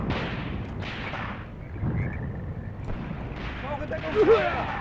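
Tank gunfire during a WWII battle in Tunisia, 1943, a rumbling barrage of heavy booms and distant blasts under continuous battlefield noise, with voices talking over it.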